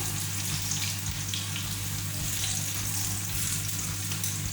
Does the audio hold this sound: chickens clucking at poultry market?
no